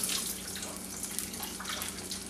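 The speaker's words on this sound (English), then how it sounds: "So I'm just straining my apples." Lemon water from soaked apple slices drains through a strainer in a kitchen while a strudel is made, giving a faint, steady, hissing trickle with no talk.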